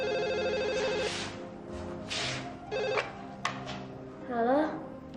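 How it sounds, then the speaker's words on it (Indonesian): Telephone rings in a home with a repeated trilling bell, two short bursts, while voices talk over and between the rings. "Ada telepon"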